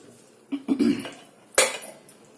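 Rice tipped into a pot over chicken curry for Kashmiri-style chicken biryani, giving a short rustle and scrape, then a sharper clink of a utensil against the metal pot, close and alone.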